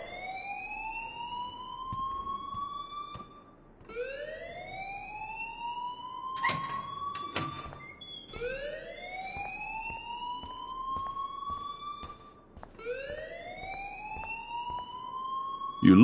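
An alarm in the video game Life is Strange wails in repeated rising electronic sweeps, each lasting a few seconds, loud and steady with a brief clatter midway and no talking.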